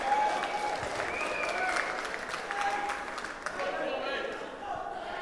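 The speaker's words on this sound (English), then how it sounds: "Big round of applause for the Grand Final right now." Loud, sustained applause and cheering from an esports crowd at the EGL4 Call of Duty: Black Ops Xbox 360 grand final, Fariko vs Fnatic, a dense roar that holds throughout while an announcer talks over it.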